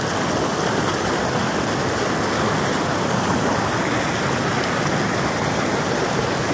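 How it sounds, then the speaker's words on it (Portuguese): Water roars over and through a river dam, a loud, dense, unbroken rush of turbulent flow that fills the whole clip with no voices. "Mas tem água bastante correndo ainda, hein?"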